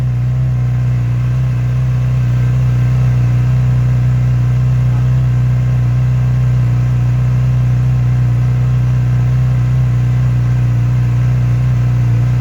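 A brand-new, zero-mileage Yamaha R6 sport motorcycle idles right after its first-ever start, giving a steady, loud, close engine drone that holds even for the whole stretch with no talking.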